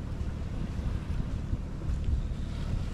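Wind buffets the microphone aboard a sailboat at sea, a low steady rushing with the wash of water around the hull, moving at about two knots under sail with the motor off.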